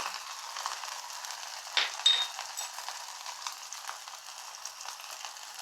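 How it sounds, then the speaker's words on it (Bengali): Spices with turmeric and a splash of water sizzle and fry in a pan for a paneer and potato curry, a soft steady crackle with a couple of brief clinks, no talking. "হলুদ একটু জল দিয়ে কষিয়ে নেবো"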